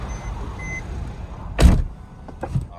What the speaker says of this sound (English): Go ahead and close the door